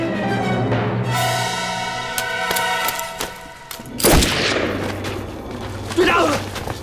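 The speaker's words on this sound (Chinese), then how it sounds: "开枪！" Gunshots ring out in a riverside wartime drama scene, with sharp percussive cracks and a heavy boom near the middle, mixed with a sustained musical tone and raised voices.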